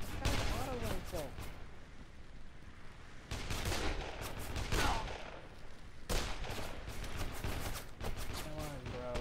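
Bursts of auto rifle fire in Dead Island Definitive Edition, three or four loud clusters of rapid shots separated by brief lulls, with a voice talking between and over them.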